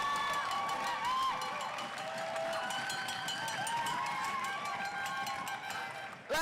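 Crowd noise at an England vs Wales Quad Nations game, a steady roar of cheering and whistling voices that rises and falls, sustained throughout, with talk mixed in.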